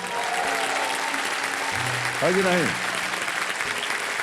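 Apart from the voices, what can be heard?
studio audience applauding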